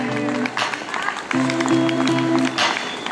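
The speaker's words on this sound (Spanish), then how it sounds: "Seguimos aplaudiendo, que no cobramos para aplaudir." Spectators applaud runners crossing the finish line at the Happy Go Running Cuvi road race in Vigo, a broad wash of clapping with a sustained tonal hum or music underneath.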